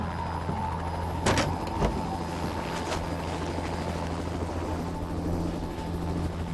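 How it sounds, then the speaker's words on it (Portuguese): Steady droning rescue helicopter rotor and engine noise fills the scene, with a few sharp clanks partway through. "um helicóptero de resgate apanha Blake e pousa numa área."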